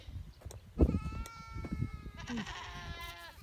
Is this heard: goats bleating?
yes